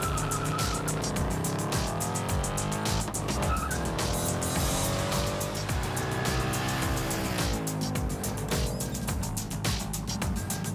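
Engine of a 2024 Ford Mustang GT Premium V8 accelerating hard, loud and continuous with rising harmonic sweeps as it climbs through gears, close and dominant with no talking over it.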